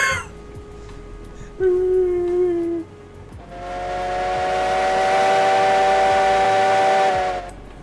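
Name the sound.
steam locomotive whistle in the video game Railroads Online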